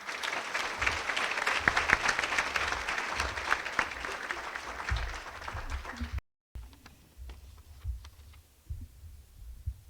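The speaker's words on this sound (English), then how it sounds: "Let's give a round of applause to Jane and welcome her to the stage." An audience applauds at a community leadership award ceremony, a dense burst of clapping that fills the first six seconds, then cuts briefly and fades into scattered, fainter claps.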